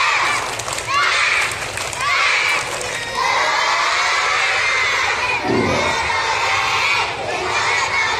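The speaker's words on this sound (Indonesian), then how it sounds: "Sekali lagi, tepuk semangat." Elementary schoolchildren at an Islamic school scout camp in Bumiayu shout a loud group chant together, a dense, energetic crowd of young voices cheering close by with scattered clapping.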